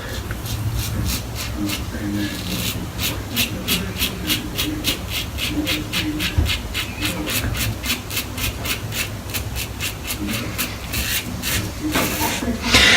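An adjustable safety razor on setting 5 scrapes across the grain in a steady run of short, crisp rasping strokes, close and evenly paced, with one brief louder rub partway through.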